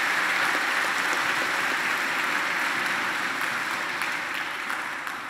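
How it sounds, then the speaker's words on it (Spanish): A church congregation applauds at a Sunday Mass, a steady wash of many hands clapping together at moderate volume, sustained throughout and tapering slightly at the end. "un aplauso para todos los papás"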